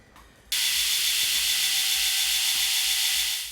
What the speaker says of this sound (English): I'm removing the bulk of the material with a 36 grit ceramic belt that eats the high-speed steel away